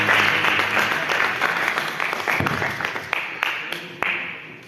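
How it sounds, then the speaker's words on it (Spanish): Church congregation applauding loudly and steadily throughout, a dense wash of many hands with a few sharper individual claps standing out near the end. "Venga, dale un aplauso fuerte al Espíritu Santo."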